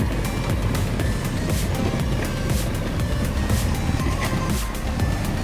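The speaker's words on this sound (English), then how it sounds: "The powerful engine of the heavy-duty log truck easily climbs steep hills." A heavy-duty log truck climbs a steep hill with a continuous loud low engine drone and broadband rumble, steady throughout and unaccompanied by voices.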